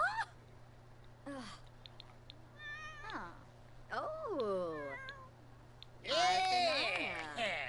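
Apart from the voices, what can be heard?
cat meowing in The Sims 4 video game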